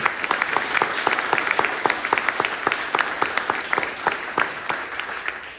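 An audience at a campaign wrap-up gathering claps in thanks, a steady rhythmic beat of many hands striking in unison, loud and continuous throughout.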